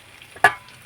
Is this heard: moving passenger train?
no